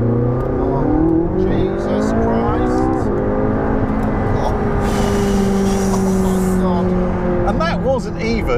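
McLaren 675LT supercar engine revving hard toward about 7,500 RPM, a loud rising engine note with people talking over it.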